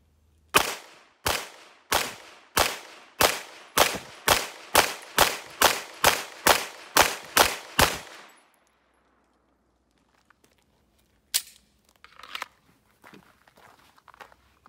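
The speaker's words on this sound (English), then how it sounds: "no problems with the gun cycling or anything like that with the suppressor on" Thirteen suppressed shots from an HK VP9 Tactical pistol crack in a quick, even string, loud and close, then stop, followed by a few faint clinks and handling sounds in a quiet space.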